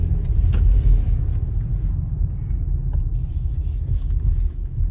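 A BMW X3 30e plug-in hybrid rolls along in electric mode, giving a steady low road rumble and tyre noise from inside the cabin, with no engine note and a few faint clicks.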